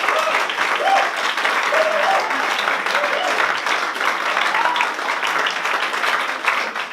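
Loud, sustained applause from a large audience at a startup showcase in Manchester, a dense continuous wash of clapping with crowd murmur and faint voices mixed in.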